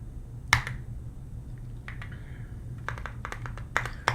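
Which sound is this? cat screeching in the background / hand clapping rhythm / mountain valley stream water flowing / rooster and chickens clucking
hand clapping rhythm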